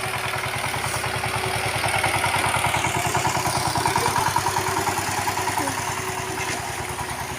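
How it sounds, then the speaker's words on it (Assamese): A tractor engine runs at a steady, throbbing idle while it threshes rice paddy, with a rapid, even chug and some clattering from the machinery, fairly loud and continuous, with no voices. "ট্ৰেক্টৰে মৰণা মাৰি আছে"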